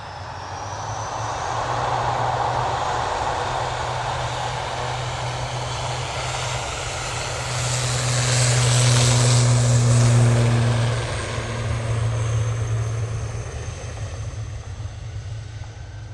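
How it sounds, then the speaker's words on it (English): Loganair ATR 72 turboprop in Isle of Man livery at Manchester Airport, a steady propeller drone with low tonal hum, swelling louder in the middle and holding near and continuous without talk. "This is in the Loganair ATR 72 in the Isle of Man livery"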